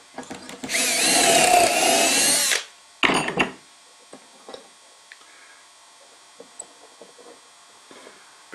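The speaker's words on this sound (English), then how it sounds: "And drill again." A power drill bores dowel holes in wood through a Dowelmax doweling jig, a loud whirring burst of about two seconds, then a short second spurt, followed by quiet clicks and taps of handling the jig.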